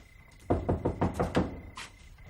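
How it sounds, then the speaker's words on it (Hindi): Knocking on a door late at night: about six firm, evenly spaced raps in quick succession, loud and close, followed by a brief faint higher sound and a quiet background hum. "अब इतनी रात गए भी गलत दरवाजा खटखटाएंगे।"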